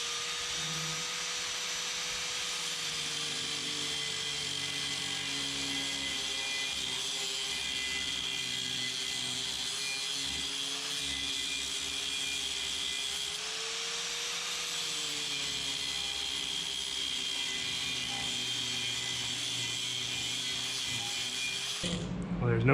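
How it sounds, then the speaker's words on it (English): A grinder with a flap wheel working on motorcycle engine parts from a CB750 engine hums steadily and loudly throughout, its pitch wavering slightly, before a brief louder burst at the very end. "Then I'll take the grinder and flap wheel and stuff and clean it up."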